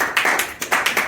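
An audience at a Gujarati movie promotion event claps, with quick, evenly spaced bursts of applause from a small crowd, loud and close, and no voices over it.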